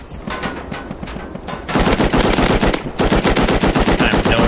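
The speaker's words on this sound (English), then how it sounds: "somebody is shooting" Video game gunfire: sustained automatic machine-gun fire, loud and close, in rapid repeating bursts that intensify after a short quieter stretch.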